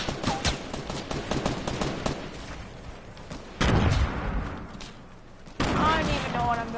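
A minigun roars in a video game with long, sustained streams of fire in two heavy bursts, loud and continuous, mixed with surrounding game noise and a person talking.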